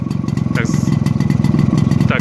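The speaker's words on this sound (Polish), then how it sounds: "Tam silnika to tylko słychać jak sobie ciągnie powietrze jak szmera" A 1953 Jawa Perak 250 Type 11 motorcycle engine running close by with a steady, rapid throbbing pulse and a soft hiss of air being drawn into the intake, under a voice.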